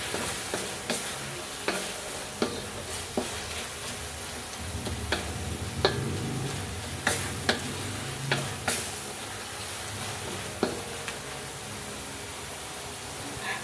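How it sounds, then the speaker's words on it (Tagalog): Shrimp paste (alamang) sautéing in a pan for pakbet, a steady soft sizzle with scattered scraping clicks of stirring, moderately close and with no talking. "Igisa lang natin ito maigi, sangkutsain lang natin ito maigi hanggang sa mamula ang alamang."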